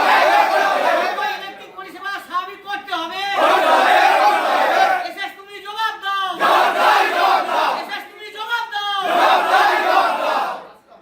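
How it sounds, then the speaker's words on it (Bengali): An agitated crowd of protesters crowds into the room of an electricity department station manager, shouting slogans in loud rhythmic bursts, with massed voices surging and fading repeatedly. "বিদ্যুৎ দপ্তরের স্টেশন ম্যানেজারের রুমে ঢুকেও স্টেশন ম্যানেজারকে ঘেরাও করে উত্তেজিত জনতা বিক্ষোভ স্লোগান দিতে থাকেন।"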